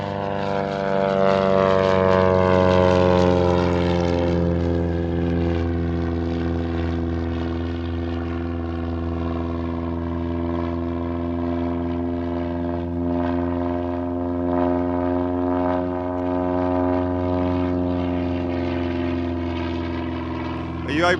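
An ATR turboprop airliner runs its propeller engines with a steady, loud droning whine and layered harmonic hum that holds for the whole stretch, swelling slightly at the start, with people talking faintly underneath at an anniversary celebration.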